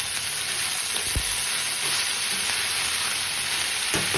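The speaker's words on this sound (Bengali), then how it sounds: "এবার এর মধ্যে শাকগুলো দিয়ে দেবো। আগে অল্প একটু দিয়ে নেড়ে চেড়ে নিই, তাহলে রসুন আর কালো জিরাটা না নিচে পুড়ে যাবে।" Greens hit hot oil with garlic and black cumin, giving a loud, steady sizzle throughout, with a couple of brief knocks from stirring.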